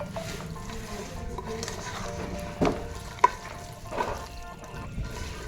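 A curd and tomato mixture is stirred in a pan with a spoon, giving a continuous wet scraping and faint sizzle with a couple of louder knocks against the pan.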